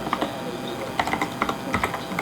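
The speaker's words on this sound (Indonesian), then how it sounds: "Caranya kita ketikkan alamatnya Cloudflare" Quick bursts of clicky keystrokes on a computer keyboard, close and clear, tapping out an address in short uneven clusters with no voices.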